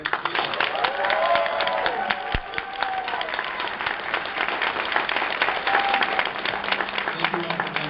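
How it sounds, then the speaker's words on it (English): Audience applause for the speakers at the end of a convention Q&A session, dense clapping from a crowd that carries steadily throughout, with some faint voices mixed in. "Let's hear a round of applause for our speakers."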